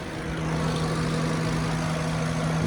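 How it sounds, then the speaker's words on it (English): An engine runs at a steady idle with an unbroken low hum and even drone, close and constant throughout. "So they will see that the engine is working."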